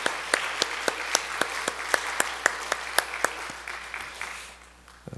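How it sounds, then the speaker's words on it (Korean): Applause from a church congregation, with distinct, evenly spaced claps standing out over a softer patter, fading toward the end. "우리 다시 한번 우리 박수 한번 쳐주세요."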